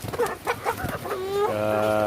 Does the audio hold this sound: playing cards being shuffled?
no